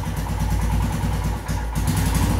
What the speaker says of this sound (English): the bike has started, but the idling is a bit erratic